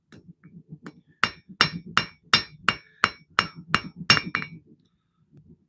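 Hammer blows forging a small custom carving knife, about ten sharp ringing metallic strikes in a steady rhythm, close and loud, with quieter shop noise before and after.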